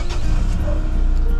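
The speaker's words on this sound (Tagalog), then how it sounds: "habang pinapainit ko yung sasakyan" A passenger car's engine idles steadily during warm-up before a Lalamove delivery trip, a continuous low rumble close by with no talk over it.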